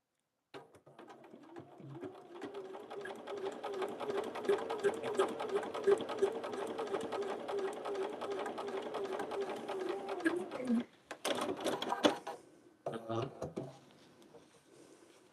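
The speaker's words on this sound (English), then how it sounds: "let's sew these together" Sewing machine stitching fabric scraps together for a stained-glass-style quilt, a steady close whirring run for about ten seconds, then short stop-start bursts; a voice talks briefly near the end.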